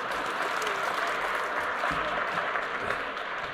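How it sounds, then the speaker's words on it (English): Audience at a college annual awards ceremony applauds and cheers steadily and loudly, a dense wash of clapping filling the hall for several seconds without letup. "Big cheer. Big cheer."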